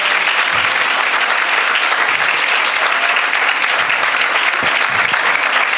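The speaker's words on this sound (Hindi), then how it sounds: "जरा जोरदार ताली इनके लिए।" A congregation at a Hindi-language church program gives loud, sustained applause, a dense, even roar of many hands clapping throughout without pause.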